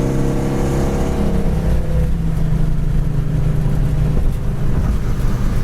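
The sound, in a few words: 1973 Dodge Challenger Rallye driving at speed, engine and exhaust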